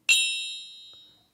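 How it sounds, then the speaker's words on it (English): A small gong is struck once to mark the market open, ringing with a bright metallic tone that decays slowly over about a second, alone and fairly close. "my little gong."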